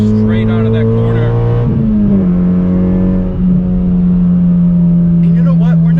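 A 9th-generation Honda Civic Si coupe accelerates hard out of a corner after a downshift, its loud engine note holding a steady, rising drone close inside the cabin, with a shift around midway and someone talking over it.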